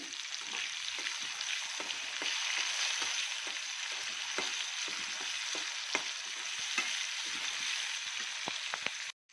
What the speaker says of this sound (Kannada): ಇದು ಸ್ವಲ್ಪ ಫ್ರೈ ಆಗಲಿ ಒಗ್ಗರಣೆ